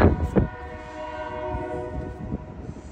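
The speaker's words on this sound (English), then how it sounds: "we're really close to some train tracks" A train rumbles past close by, its sustained horn sounding loudly over a few heavy thumps and clatter.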